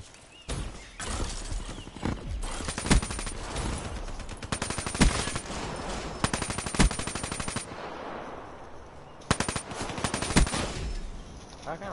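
Rapid bursts of automatic gunfire from a video game weapon, loud and close, coming in repeated long volleys with short pauses between them.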